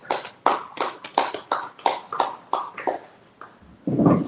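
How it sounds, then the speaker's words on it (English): About a dozen sharp claps land in a steady rhythm of roughly three per second, fairly close and distinct, fading slightly before a muffled louder burst at the end. "let's clap it up"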